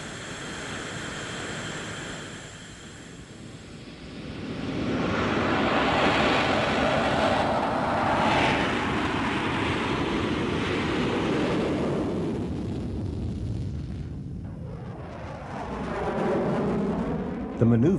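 An F-18 Hornet fighter jet roars past in a broad, swelling rumble that peaks and then sweeps away with a whooshing flyby, while a narrator speaks over it.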